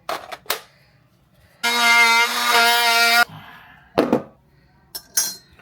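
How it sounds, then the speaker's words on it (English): An oscillating multi-tool runs in a single steady buzzing burst of about a second and a half during work on a living-room wall, loud and close, framed by short knocks and handling noises before and after. "This is called an oscillating tool."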